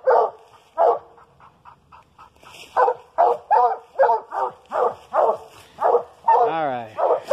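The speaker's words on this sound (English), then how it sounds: "Y'all can listen to him tree." A coonhound treeing gives a long series of loud, evenly spaced barks close by, with a drawn-out howling bawl near the end.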